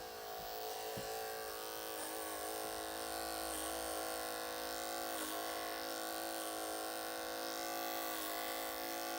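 Electric hair clippers buzz steadily while cutting hair for a short clipper cut with a high fade, a continuous close hum with slight changes in pitch as the blade moves through the hair.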